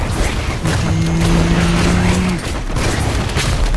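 Rapid bursts of gunfire from the LifeAfter survival shooter game fill the clip, dense and loud, with a brief steady tonal hum partway through.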